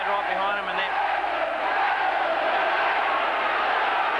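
Crowd at a 1986 Wigan v Australia rugby league match roars steadily, a dense distant wall of cheering and shouting that persists under a commentator's voice throughout.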